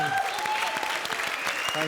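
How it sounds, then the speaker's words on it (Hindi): Loud, dense applause from a studio audience at a comedy show fills the whole moment, steady and close, with faint voices mixed in. "एक बार सिद्धार्थ, कृष्णा और सुदेश के लिए जोरदार तालियां हो जाएं।"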